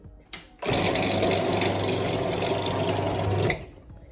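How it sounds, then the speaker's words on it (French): A loud, steady motorized whirr of a blender mixing a vegan cake batter with butter, running for about three seconds, starting and stopping abruptly, with a few faint clicks before. "On est parti pour le mixage. Attention au bruit."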